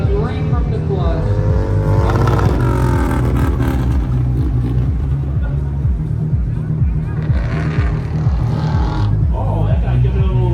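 A Harley motorcycle engine revs hard and continuously during a stunt, a loud, close, throaty rumble with rising and falling pitch, while a voice talks over it throughout.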